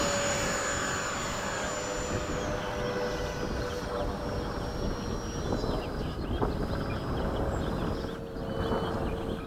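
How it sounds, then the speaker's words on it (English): Hawk jet aircraft on a touch-and-go, heard as a continuous, fairly distant turbine whine with a slowly falling high tone over steady broadband roar and some wind noise, without talk. "Ready for a touch and go, Frank?"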